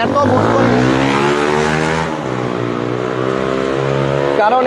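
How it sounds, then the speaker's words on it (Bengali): A motorcycle speeds past close by, its loud engine whine rising and then dropping in pitch as it passes, followed by a steady, slightly lower engine drone. "এত জোরে মোটরসাইকেল চালানোর কি আছে, মাথায় নাই হেলমেট"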